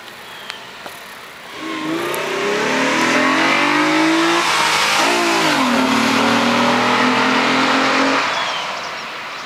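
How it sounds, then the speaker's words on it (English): A 2002 Acura TL-S with an aftermarket intake and a faulty transmission rises into a loud, revving acceleration as it sweeps past, the engine note climbing, dipping at a shift, then fading away. "Acura TL-S with an intake."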